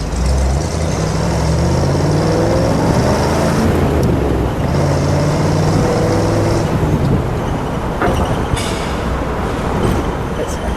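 A 1956 Chevrolet Corvette's engine drones steadily while driving, its gear pitch climbing through repeated rises, with road and wind noise around it and a brief clatter near the end.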